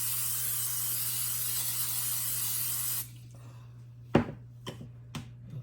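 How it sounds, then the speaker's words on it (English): Cooking spray hisses steadily onto a 9 by 13 baking pan for about three seconds against a low hum, then stops, followed by a few sharp clicks and taps. "I'm going to just spray my pan"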